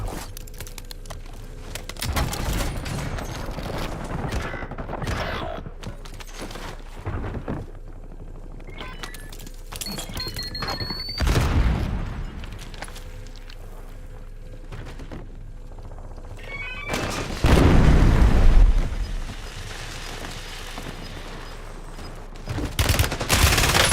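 Gunfire in the Black Ops 6 video game comes as scattered bursts of shots and mechanical clicks over a constant background rumble, with louder volleys around the middle and near the end.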